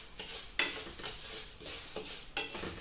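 Whole coriander seeds frying in a pan, a soft steady sizzle broken by several scraping stirs of a utensil against the metal, with a couple of sharper clinks, close and fairly quiet, no voices.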